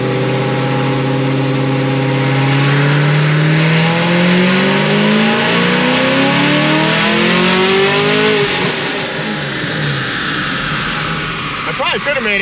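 A procharged LT1 engine in a Camaro wails through a full dyno pull, its pitch climbing steadily and loudly for about eight seconds before backing off, with the supercharger whine carrying over the roar.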